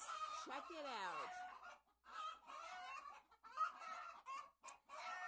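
Hens in a barn raise loud alarm calls: a rising, strained squawk and then repeated agitated clucking in bursts, fairly close, with a person speaking briefly underneath.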